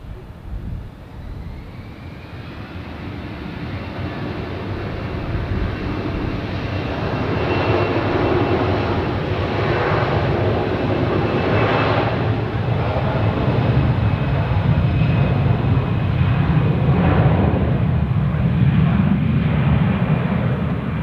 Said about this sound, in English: I see a very nice airplane taxiing up. Folks, Embraer 195. No, 135 of course. Or is it even a 4? No, it's a 45 even.